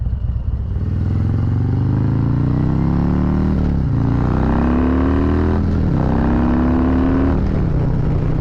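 A Zephyr Blue Harley-Davidson Road King Special with a 131 cubic inch engine cruises at about 70 mph, its deep engine drone loud and steady, rising in pitch and then dropping briefly at two gear shifts.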